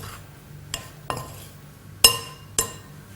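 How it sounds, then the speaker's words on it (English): Seasoned lamb stirred in a pan, with a few separate clinks and scrapes of a utensil against metal, spaced irregularly over a quiet background. "Give it another stir."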